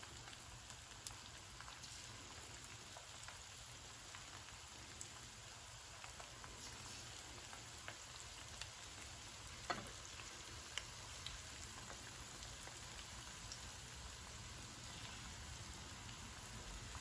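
Chilli chicken pieces fry in a single layer of hot oil, a steady, dense crackling sizzle with scattered sharp pops running throughout, close and continuous without any talk.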